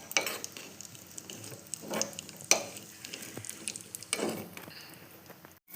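Soft stirring and gentle frying of sweets in ghee in a pan, with intermittent scraping strokes and faint sizzling, close and fairly quiet.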